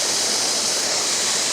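Steady, full roar of a waterfall in the autumn Pyrenees, its rushing water spilling around rocks into a small pool, broad and unbroken throughout with no voices.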